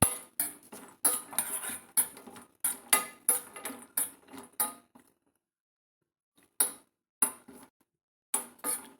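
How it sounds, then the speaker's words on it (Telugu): Almonds, cashews and dry coconut pieces rattle and clink in a pan as they are roasted, giving bursts of sharp metallic scraping and tapping, busy at first, then a pause and a few scattered strokes. "ఒక 6 బాదం, ఒక 8 కాజు, ఒక టేబుల్ స్పూన్ అన్ని ఎండు కొబ్బరి ముక్కలు, ఇవన్నీ దోరగా వేయించుకుందాం"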